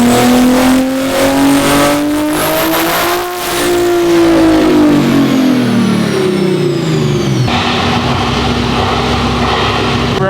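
A tuned Toyota MK5 Supra screams through a loud dyno pull, its engine climbing steadily in pitch, dipping briefly near the middle, then sweeping back up before dropping to a rough, heavy idle rumble near the end.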